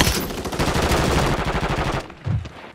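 Rapid automatic gunfire in a Call of Duty battle royale match, a dense stream of close, loud shots for about two seconds, then a couple of quieter thuds as it breaks off.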